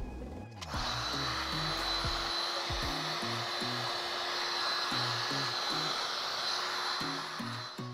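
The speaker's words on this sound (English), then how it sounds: "use the heat gun again to shrink it down" A heat gun blows steadily and loudly, shrinking heat-shrink tubing over a repaired electrical extension cord, a constant close airy whoosh with faint low clicks underneath.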